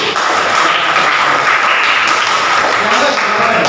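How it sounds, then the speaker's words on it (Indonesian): A school class applauds a pupil, continuous clapping from many hands close by, with voices murmuring underneath the steady patter. "Tepuk tangan untuk Supri."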